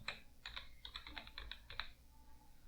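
Keys clatter on a computer keyboard in quick irregular bursts of typing, close and fairly quiet, with no talking over them.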